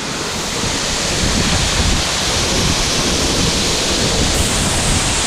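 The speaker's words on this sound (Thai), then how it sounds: "โอ้บริเวณน้ำตกนะเนี่ยทุกคนรอบๆแรงมาก" A powerful waterfall roars in a dense, continuous rush of water that stays loud and steady the whole time, with no voices.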